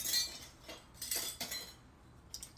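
Metal canning jar rings picked up for small-batch canning, a few quiet bright clinks and scrapes of metal in short clusters, otherwise near silence.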